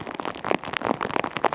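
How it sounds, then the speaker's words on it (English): Rain pattering on a wet, muddy grass hilltop inside a cloud, a dense, steady spatter of close drops across the whole stretch with no voices. "it is raining in this cloud"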